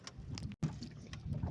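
Motorized boat crossing a wide lake in the Agusan Marsh, a steady engine drone with wind buffeting the microphone and water rushing past, continuous apart from one brief dropout.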